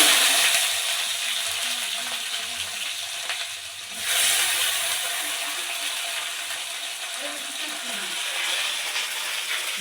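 Green beans and carrots hit hot oil in a pan and keep frying with a steady, bright crackling sizzle that runs throughout, briefly dipping and swelling again near the middle.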